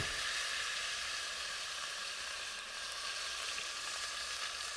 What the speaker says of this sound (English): we pour in a pan a bit of olive oil and garum and cook the pork loin for about 15 or 20 minutes